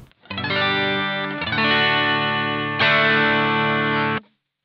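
A clean electric guitar run through a Valeton Dapper Mini with a cab and preamp emulator plays three sustained chords in turn, each ringing steadily with a slight shimmer before cutting off, loud and alone.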